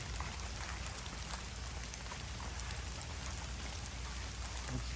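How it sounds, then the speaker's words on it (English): Rain falls steadily outdoors in lizard habitat, a dense, even hiss of drops on surfaces that holds constant and fairly soft for the whole stretch. "It's starting to rain."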